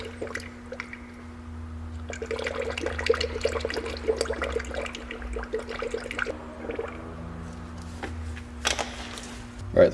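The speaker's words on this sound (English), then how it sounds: "how you hear it bubbling a little bit more?" Coolant bubbling and gurgling in the radiator cooling system of a 1999 Acura 2.3 CL being refilled after radiator replacement, faint irregular burbles and drips over a low steady engine hum.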